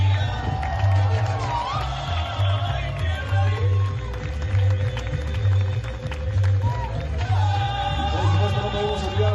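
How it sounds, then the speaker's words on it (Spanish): A hotel show crowd at the Moon Palace in Cancún claps and cheers for dancers, dense applause and whoops layered over loud thumping music and an announcer's voice. "Aplausos, big applause!"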